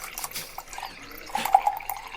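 Scotch whiskey pouring into a glass, a faint, soft trickle with light drips, quiet and close, ending in a small clink.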